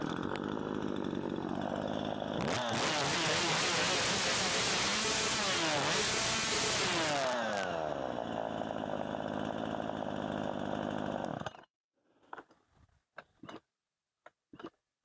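A Husqvarna 137 chainsaw engine, which has trouble starting, roars loudly and revs for several seconds, then cuts off abruptly, leaving a few faint clicks and knocks.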